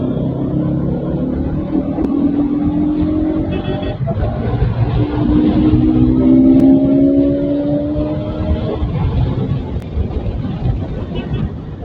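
A Bajaj NS 200 motorcycle accelerates hard on a road at night, its engine note climbing in pitch through several gears, loud and close with wind rush around it.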